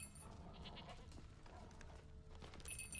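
A goat in The Witcher 3 game, bleating a few times at fairly close range over a faint bed of game ambience, the calls wavering and nasal with no talk over them.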